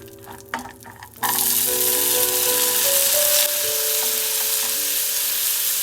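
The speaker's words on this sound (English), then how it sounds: "let's toast some cashews and raisins" Cashews and raisins toasting in a pot, a loud steady sizzle that starts abruptly after a few quiet clinks and carries on without talking.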